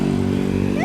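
A motorcycle engine running close by with a steady low drone and a rising note at the end as it passes, brief and loud.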